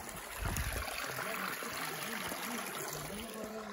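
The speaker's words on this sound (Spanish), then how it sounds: "Mira, ahí está corriendo el agua todavía." Water running in a stream along an outdoor walking trail near a pool, a steady broadband rush and trickle that stays close and even throughout with no talk over it.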